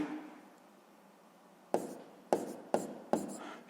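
A pen writes numbers by hand for a column multiplication sum in a sixth-grade maths exercise, giving four short, sharp scratching strokes after a quiet stretch.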